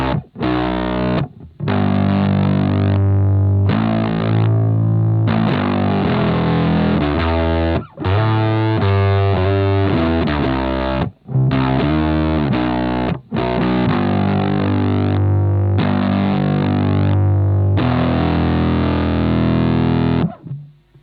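Bass guitar played through an Ibanez FZ7 fuzz pedal set at low gain, giving a thick, distorted tone as loud sustained notes and phrases ring almost continuously, broken only by a few short gaps.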